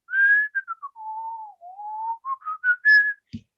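A person whistles a wandering, idle tune to imitate a character while grabbing bowls to serve stew in a Dungeons and Dragons tabletop session, clear and close with a brief knock at the end.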